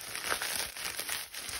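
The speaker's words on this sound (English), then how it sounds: "I have a mailer in here, and it's one of the ones that's plasticky, and it sounds like this" A plasticky mailer envelope crinkles and rustles steadily for a moment, close and fairly quiet, with no voices.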